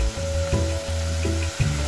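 Vegetables for a roti wrap cook in a pan, giving a steady close sizzle with a low hum and occasional scraping shifts.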